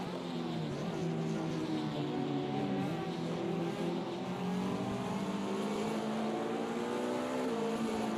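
A GTE race car engine in the Automobilista 2 racing game drones steadily and loudly throughout, its pitch rising and falling in layered harmonics as it revs and shifts, with no talk over it.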